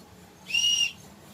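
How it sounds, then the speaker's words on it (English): A single sharp whistle blast, steady and fairly loud, lasting under half a second against a quiet background. "If you hear me whistle once like this"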